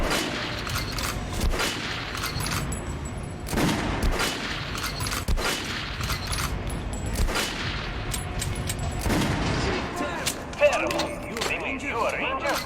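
Gunfire in Metro Last Light, repeated sharp loud shots in bursts and single cracks spread across the stretch, mixed with game sounds and a voice speaking at times.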